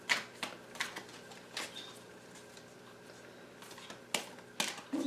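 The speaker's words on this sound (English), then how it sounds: "These cards are really big and awkward for me to shuffle." Intermittent riffling and slapping of large tarot cards being shuffled, several quick bursts separated by quieter pauses, close and fairly soft.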